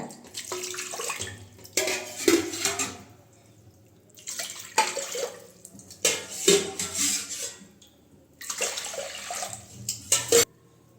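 Water is poured from a tumbler in three separate bursts, each a few seconds long, splashing into a metal pressure cooker close by with brief clinks between.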